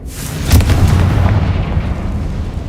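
Confringo blasting spell from the video game Hogwarts Legacy erupting in a loud, close explosive boom followed by a deep rumbling roar that slowly fades.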